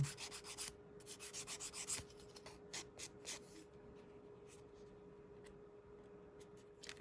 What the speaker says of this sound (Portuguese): tem que dar um acabamento aí com a lixa comum